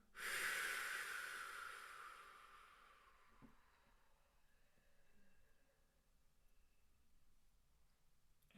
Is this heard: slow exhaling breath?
yes